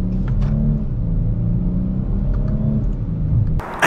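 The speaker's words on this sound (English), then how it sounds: "get our acceleration here at the charger" A 2022 Dodge Charger SXT AWD Blacktop accelerating hard, its engine revving with a loud, close, rising growl and rumble that holds steady before cutting off abruptly.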